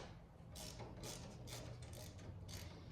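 Ratchet wrench loosening 7/16 bolts on a 1963 Chevrolet C10, a quiet run of about six rapid clicking bursts in a steady rhythm, close and faint with no voices.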